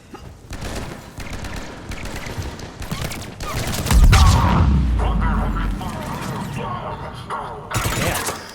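Firefight gunfire in the video game Mass Effect 3 during an assault on Omega: loud bursts of automatic weapon fire and heavy booms, dense and continuous, with voices talking over the battle.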